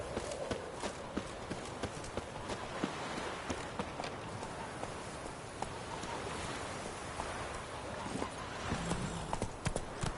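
Hooves of Roach, a horse in a video game, clip-clopping in a steady irregular rhythm over a dense, noisy game soundscape, fairly quiet throughout without clear talk.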